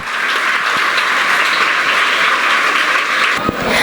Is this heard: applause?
yes